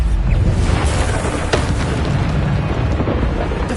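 Bombarda spell blasts in Hogwarts Legacy, a loud, dense rumbling explosion roar that fills the whole stretch, with a sharper burst near the middle.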